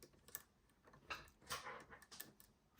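Close, quiet metallic clicks and taps from levers inside an ERA Fortress mortice lock as it is picked, a handful of short sharp ticks spread irregularly with no talking.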